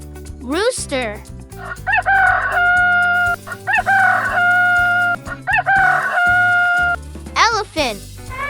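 A rooster crows three times in long drawn-out calls over a cheerful children's music track, with brief squawks near the start and end.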